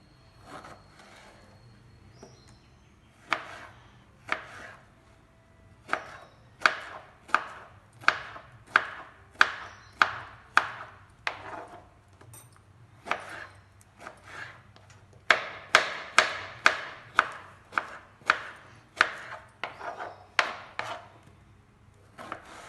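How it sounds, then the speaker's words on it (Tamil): A knife chops peeled ridge gourd on a board for pachadi, giving a steady run of sharp, close wooden knocks at an even pace that quickens toward the end, with no talking. "பீர்க்கங்காயை தோல் சீவிட்டு கட் பண்ணிவிட்டு காமிக்கிறேன்."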